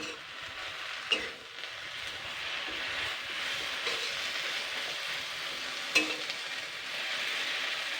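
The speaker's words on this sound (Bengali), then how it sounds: "জাস্ট শুকনো কড়াইতেই কিন্তু আমি একটু হালকা নাড়াচাড়া করে নিচ্ছি" Chopped tomatoes and bottle gourd leaves are stirred in a dry wok with no oil, giving a steady soft hiss and rustle, broken by two sharper scrapes of the spatula against the pan.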